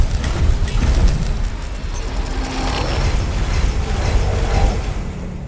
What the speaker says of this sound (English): The mission end tally screen itself also has some really great sound effects